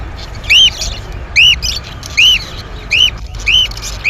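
Parrot-like birds at a traditional bird market give five sharp, loud chirping calls at regular intervals close by, over a low background hum with no talk.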